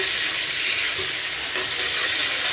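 Meat sautés with spices in a hot pan, a loud, continuous close-up sizzle with occasional stirring scrapes and no voices.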